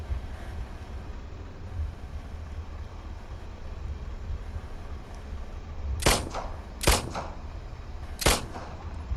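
Three sharp shotgun blasts in the Roblox game Brookhaven, spaced a second or two apart, each a loud broadband crack over a low steady background hum.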